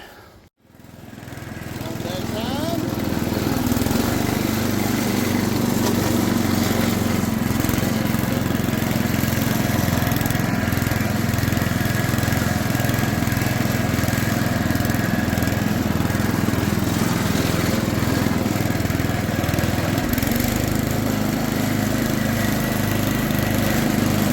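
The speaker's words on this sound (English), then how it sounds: "let's start this thing up and see if the mowing deck works correctly" A Sears Custom 600 lawn tractor with its mowing deck engaged starts and runs steadily at close range, its engine drone continuous and loud for over twenty seconds.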